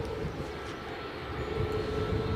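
Wind buffets an outdoor microphone at an airport, a continuous low rumbling roar with a faint engine-like drone beneath it, steady for a couple of seconds with no voices.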